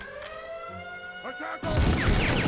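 An alarm siren wails in the PS1 game Medal of Honor: Underground, steady and tonal at first, then overtaken by a loud crashing burst of game noise with rising sweeping tones.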